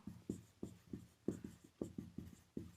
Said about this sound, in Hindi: यहाँ पर लिखेंगे माना कि रीमा और